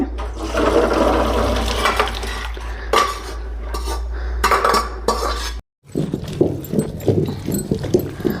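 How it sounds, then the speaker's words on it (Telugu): Boiled lentils for Ugadi bobbatlu are tipped from a pot into a colander, with metal pot clatter and a rushing pour of water, then a brief pause and more clanking and handling of vessels. "పప్పు అయితే ఉడికిపోయింది ఇప్పుడు వంపేసుకుందాము తూట్ల గిన్నెలకి"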